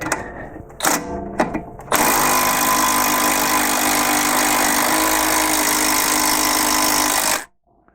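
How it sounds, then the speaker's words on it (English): An impact wrench spins a T30 counterhold to drive an end link out of its nut while installing springs and shocks on a BMW G20 3 Series. A few short bursts come first, then one loud, steady whirring run that stops abruptly, close up. "I attach the T30 counterhold to my impact and I spin that instead"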